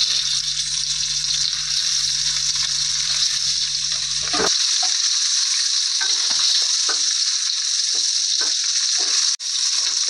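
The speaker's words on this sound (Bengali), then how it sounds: "তো তেলটা গরম হয়ে গেছে, মাছগুলো একটা একটা করে দিয়ে দেব" Fish pieces coated in turmeric and chilli powder frying in hot mustard oil, a loud continuous sizzle that flares sharply as pieces go in, with faint scrapes and clicks over the steady hiss.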